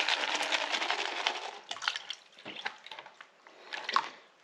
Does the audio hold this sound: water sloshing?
yes